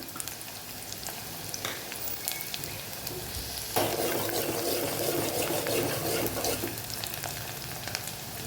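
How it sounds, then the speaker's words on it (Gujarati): Onions sauté with curry leaves in a pan, a soft steady sizzle that grows louder and denser midway as something is added, then settles back, close and without talk. "ડુંગળીને આપણે સરસ સાતળી લેવાની છે। મીઠા લીમડાની ડાળખી ઉમેરી દઈશું।"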